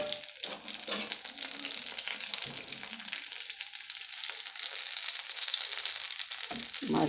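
Hilsa fish pieces frying in oil for a pickle, a continuous crackling sizzle with bursts of spattering and occasional stirring scrapes, close and steady throughout.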